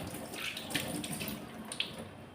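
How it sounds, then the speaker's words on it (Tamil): Running tap water splashes into a kitchen sink during cleaning, a faint, steady trickle with soft irregular splashes close by. "நான் ஜிங்கை நல்லா கழுவிட்டேன்னா பளிச்சுன்னு ஆகிட்டா"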